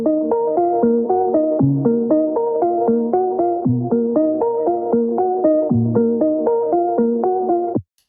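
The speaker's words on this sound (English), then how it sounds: "So without Crystallizer on it, it would sound like this." Dry keys loop in a lower octave without the Crystallizer plugin, a steady repeating pattern of clean pitched notes in even rhythm, playing alone before stopping abruptly.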